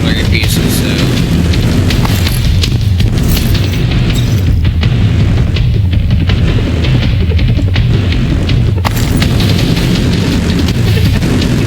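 Deep, rumbling artillery blasts from The Division 2, a video game, roll on continuously at high volume, with booming impacts layered into a thick, unbroken wall of noise.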